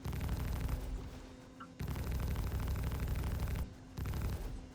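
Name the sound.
gunfire shooting guns off a ship in Star Citizen video game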